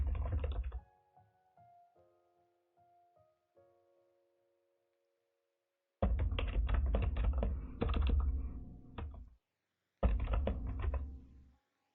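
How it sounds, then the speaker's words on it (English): Brisk clattering keystrokes on a new computer keyboard come in two close, fairly loud runs, separated by a quieter stretch with a soft tonal hum and a few faint taps. "I can't type with this new keyboard."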